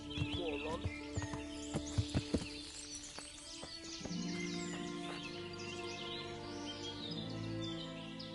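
Horse hooves in a video game clip-clop at a steady trot with birds chirping around them, followed by a low steady hum as the hoofbeats fade.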